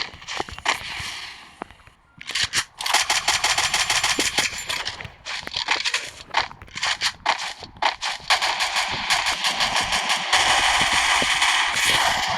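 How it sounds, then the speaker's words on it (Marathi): Rapid automatic gunfire from the video game Free Fire, loud and close, with sustained bursts and short pauses, continuing steadily over a dense background of game effects. "तात्या तुम्ही खालून फायरिंग करा."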